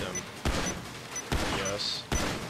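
Gunfire at target practice in the video game GTA Online: three loud, sharp bursts of shots spaced about a second apart, with quieter game sounds between them.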